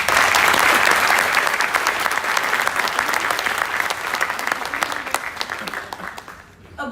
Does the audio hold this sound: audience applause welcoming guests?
yes